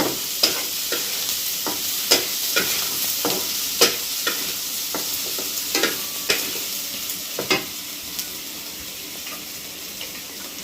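Paneer tadka with Kashmiri red chilli powder sizzles steadily in a pan while a spatula scrapes and stirs in repeated knocks, close and clear, with no talk.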